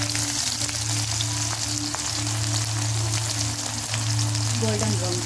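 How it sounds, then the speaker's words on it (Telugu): Neatly chopped onions fry in heated oil for a Burmese-style egg masala, producing a loud, constant, close crackling sizzle that runs without break, with a low steady hum underneath and no speech. "ఇప్పుడు నూనె వేడెక్కింది. ఇప్పుడు ఆనియన్ వచ్చి నీట్గా కట్ చేసుకొని"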